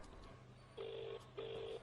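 Two faint electronic phone tones sound in sequence, each a steady beep under a low background hum.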